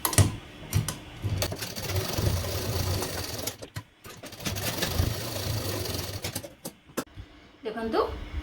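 Sewing machine running in rapid bursts of stitching while a suit is sewn, a steady close mechanical whir with short pauses, some background voice and a brief faint sound near the end.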